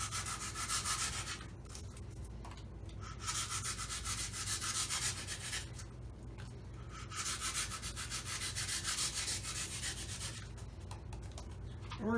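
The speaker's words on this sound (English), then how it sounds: "We're going to take our handy little utility knife here, and we're going to start shaving it off." Utility knife blade shaving cured Expandafoam off a car dashboard, repeated rasping strokes in long close bursts separated by short pauses.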